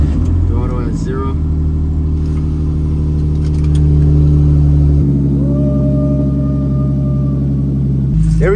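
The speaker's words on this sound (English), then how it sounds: "Completely cold start. Let's see how it handles it." A turbocharged BMW M50 engine in an E30 cold starts and settles into a loud, steady rumbling idle with shifting pitch, while a person talks over the start-up.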